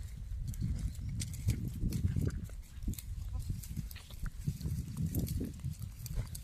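Goats grazing and moving about in a field: continuous close rustling, soft hoof knocks and bleat-like bursts form a busy, even jumble of animal activity.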